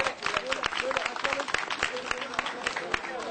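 Audience clapping at the first Uluköy dam summer festival, with sharp, distinct hand claps in an uneven rhythm over an outdoor crowd, and a voice talking over the applause.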